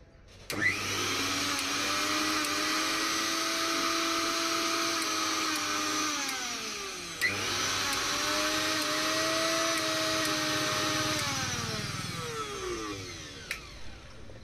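A mixer grinder with a newly replaced armature spins up with a sharp whine, runs steadily, winds down briefly and starts again, its high electric motor hum loud and constant through both runs, free of talk.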